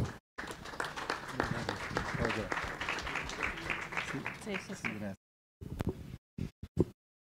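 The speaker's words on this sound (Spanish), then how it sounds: "Jorge Jairo, un aplauso para Jorge también, bienvenido aquí." Audience at a citizen participation conference applauding to welcome a speaker, steady clapping for about five seconds before cutting off, followed by brief fragmented sounds.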